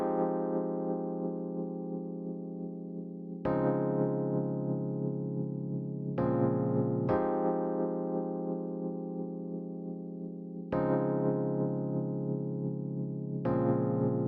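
Rhodes Classic electric piano plays ninth chords layered with a Nexus Dark Star 3 pad in a descending new-jazz progression, the chords struck in a slow repeating pattern, each ringing and fading into the next, soft and steady with no voice.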